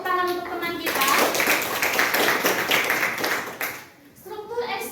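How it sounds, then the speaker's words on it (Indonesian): Students in a classroom clap for a classmate, a burst of fairly loud, dense clapping lasting several seconds that fades near the end, with children's voices chattering and a teacher's voice before and after. "Beri tepuk tangan untuk teman kita."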